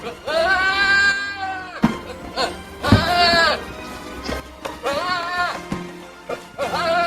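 Recorded goats bleat in a few drawn-out, quavering cries with brief gaps between them, fairly loud and close.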